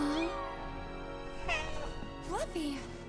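A cat meowing in the video game Final Fantasy VII Rebirth, several drawn-out, pitch-bending meows, close and clear, with a musical background underneath.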